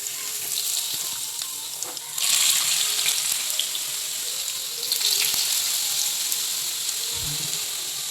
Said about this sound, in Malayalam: എണ്ണ തിളയ്ക്കുമ്പോൾ ഈ പൊട്ടറ്റോ എല്ലാം എടുത്ത് നമുക്ക് ഇതിലോട്ടിടാം